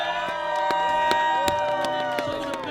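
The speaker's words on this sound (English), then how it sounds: "let's give a big round of applause for Seven Springs" Crowd cheering and clapping at the Steel City Showdown, an X Games rail skiing event, with a steady wash of applause, shouts and whistles. Loud and continuous throughout, with sharp claps and yells standing out.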